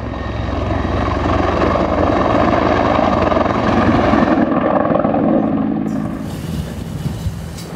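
A firefighting helicopter flies over a wildfire in Patagonia, its rotor and engine a loud, steady, close roar that holds for several seconds before easing slightly toward the end, with no voices.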